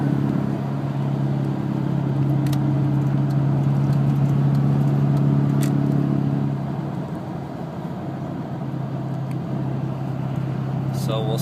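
A 2003 Chevy Duramax CNG/diesel truck cruises at around 70 mph on the highway, a steady low engine drone and road hum that eases slightly partway through, with occasional clicks and someone talking over it.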